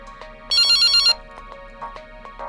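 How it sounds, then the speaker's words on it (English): A phone rings in the video game Sunny Day Jack: a loud, close electronic ringtone with a bright, sustained trill burst amid a soft melodic tone pattern, alone without talk. "My phone rings."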